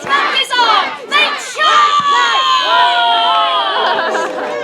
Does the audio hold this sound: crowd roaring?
yes